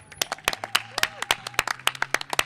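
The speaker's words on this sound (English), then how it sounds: "So I'm going to give one more round of applause for Bikeshare and our partnership" A small crowd claps in a brisk, uneven patter at an outdoor Capital Bikeshare station launch for new stations in Wards 7 and 8, with individual sharp hand claps standing out over a low steady hum.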